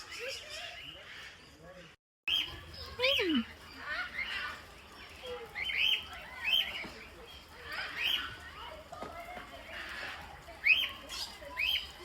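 Birds in an eco park chirp and squawk in scattered bursts, near and moderately loud, while people talk throughout.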